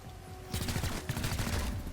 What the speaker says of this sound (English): I could probably maybe shoot at him and weaken him